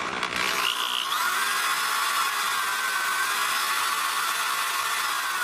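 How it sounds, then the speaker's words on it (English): A power drill with a 25/64 bit whines steadily and loudly, drilling out a stripped threaded hole in metal on a car horn at a constant pitch, with no talking. "so we have to drill this out."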